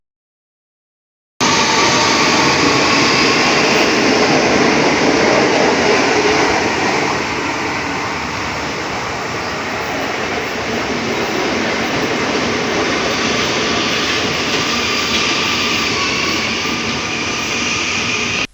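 A new China-built KRL commuter train runs along in a broad, steady rushing roar of wheels and motors that holds for many seconds after a brief silent start, with no talk over it.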